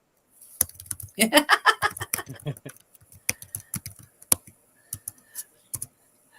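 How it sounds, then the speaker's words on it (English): Computer keyboard keys clatter in irregular bursts of sharp, close clicks, with a short stretch of someone talking near the start. "Our guest was just typing to us in private chat"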